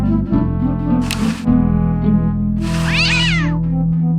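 Cat meows in the game Day of the Tentacle, a short bright sound near the start and a longer wavering yowl later, loud over a steady low musical background.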